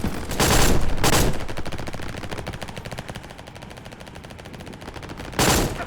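Pistol fire in Battlefield played in VR: sharp, loud shots at the start and again near the end, separated by a stretch of rapid crackling gunfire and reverberating battle noise.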